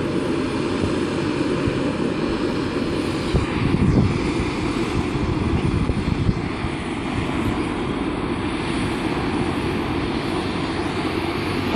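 A seaplane taking off from Lake Rotorua: a steady aircraft engine drone with propeller hum and wind noise, holding loud and even throughout, rising slightly in the middle.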